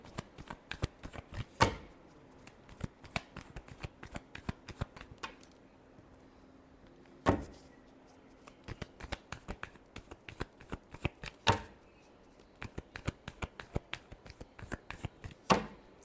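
Tarot cards are shuffled by hand in quick, crisp riffles and flicks, with a few sharper bursts standing out from the steady patter, close and alone without talk.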